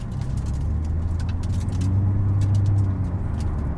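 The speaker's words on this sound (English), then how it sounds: "You can hear the rocks hitting." Small rocks ping and clatter against the underside of a car rolling on new, sticky tires, scattered sharp ticks over a steady low engine and road rumble.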